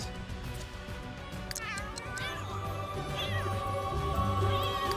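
Several cats meow in The Sims 3 video game, with repeated rising and falling calls layered over one another and a low hum of game ambience beneath.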